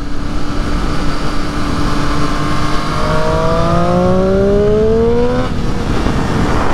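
A Triumph 765 Street Triple RS motorcycle engine drones steadily and climbs in pitch as it accelerates while riding, with wind rush throughout, then drops off near the end.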